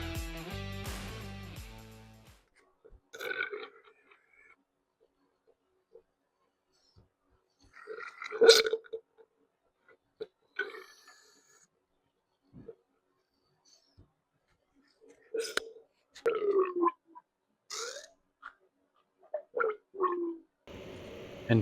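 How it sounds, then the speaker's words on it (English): Oil being purged from a 2002 Kawasaki KX250 motorcycle fork, close-up and quiet, with irregular wet gurgling and squelching bursts separated by near-silent gaps, plus a brief mechanical clatter at the start. "figured I'd do a little ASMR while I purge the fork."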